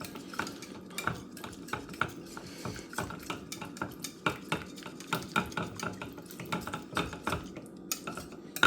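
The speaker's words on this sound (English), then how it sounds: "I'm just gonna mix it until I don't see any more lumps in it" Cheesecake batter for a Japanese cheesecake being stirred smooth in a bowl, a steady run of rhythmic scraping and clinking strokes, close and fairly loud, with no talking.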